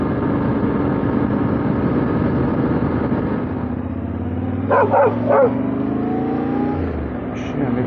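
A dog barks a few times at a distance over the hum of a passing car, three or four quick sharp barks standing out against the traffic.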